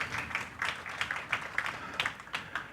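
Audience applause in a talk hall, a short burst of scattered clapping with rhythmic bright claps, moderately distant and fairly faint, with no speech over it.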